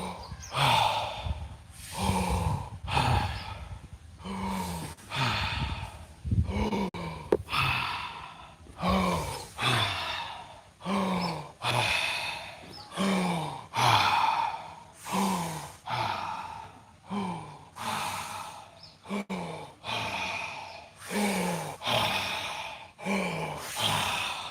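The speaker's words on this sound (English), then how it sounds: "I breathe a little extra loud for you guys to hear the breath" Loud, deliberate breaths during a guided breathing exercise, a steady chain of about twenty close rhythmic inhales and exhales, each a rushing, raspy puff, with no talking.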